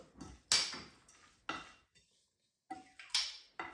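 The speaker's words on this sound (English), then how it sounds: "So let's mix that." A utensil clatters against a bowl while dumpling filling with soy sauce, ground pepper and corn flour is mixed, giving several sharp, separate scraping knocks with brief pauses between them.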